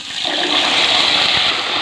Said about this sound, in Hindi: अब इसके अंदर मुझे पानी शामिल करना है